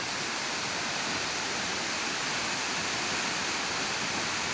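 Hinulogan Falls pouring down from above, a loud, continuous broadband roar of falling water that holds steady throughout.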